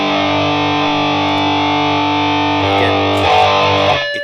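Distorted electric guitar through Overloud THU cabinet IRs with chorus and tape delay, a thick sustained chord ringing loudly, then shifting near the end as it fades, no talk.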